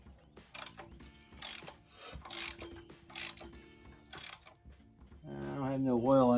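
A Hyundai Tiburon 2.0 engine, run without oil, turned over by hand for a compression check, making a series of mechanical ratcheting, clicking strokes that repeat in bursts and are followed by a sustained tonal whir.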